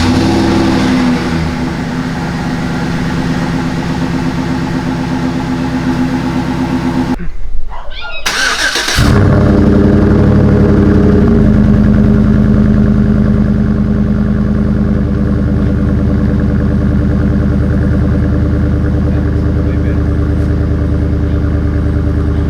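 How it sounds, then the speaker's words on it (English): A 2013 GMC Sierra 5.3 V8 fitted with a Carven Competitor exhaust runs with a steady, deep rumble that holds loud and close throughout, interrupted by a brief quiet gap partway through. "As you can hear, we changed the exhaust."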